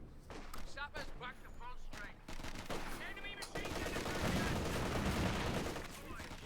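Dense, sustained machine gun bursts and gunfire from the real-time strategy game Company of Heroes 2, with British infantry under fire, rattling continuously beneath a talking commentator's voice.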